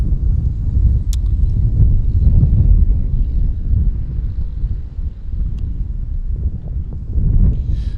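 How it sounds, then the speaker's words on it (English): Strong outdoor wind buffets the microphone in a steady, loud low rumble for the whole stretch, swelling and easing slightly, with no talk. "we got to hold the computer down because it's fucking windy as hell out here"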